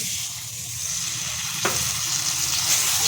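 Spice-wash water poured into frying spices in a pan for a black-cumin fish curry: a steady hiss and sizzle of oil, one brief sharp splash-like crackle midway, then the sizzling continues evenly and close.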